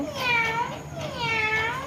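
Someone mimics a cat's meow with their voice, producing two close, clear meows back to back.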